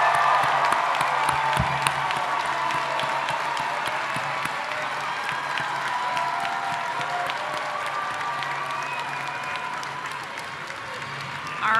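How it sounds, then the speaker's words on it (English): Sustained, thick applause from a large commencement crowd honouring a 2023 graduating class, with cheers and whoops rising within the continuous clapping, loud and steady across the whole stretch. "Everyone, please join me in offering them a warm round of applause."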